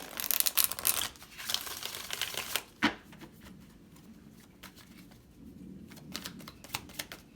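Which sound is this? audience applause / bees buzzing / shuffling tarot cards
shuffling tarot cards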